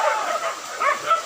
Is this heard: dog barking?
yes